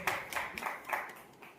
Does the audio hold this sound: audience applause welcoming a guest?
yes